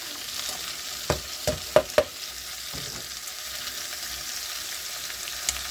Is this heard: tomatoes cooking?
yes